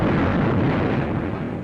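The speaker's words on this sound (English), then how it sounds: "Thousands of tons of aerial bombs are rained upon Tarawa's waterfront and beachheads" A continuous deep rumbling roar of heavy aerial bomb explosions on Tarawa's waterfront and beachheads in 1943, dense and thunderous throughout with no pauses, sounding distant and massive.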